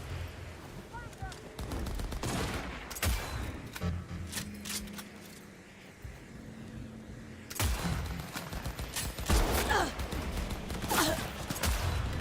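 Sniper and other gunfire in Cyberpunk 2077, with sharp shots cracking in bursts, some near and loud and some more distant, over game ambience, with brief bits of talk in between.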